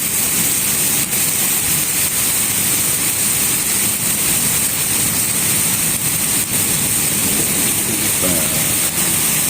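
Stormy heavy rain pours down in a village near Sargodha, a loud, unbroken hiss of water striking surfaces that holds steady throughout with no pauses.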